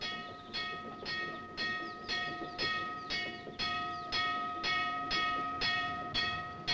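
A freight train rolls past with a steady, rhythmic clickety-clack of wheels over rail joints, repeating at even intervals at a moderate distance, with a faint tonal ring running beneath the beat.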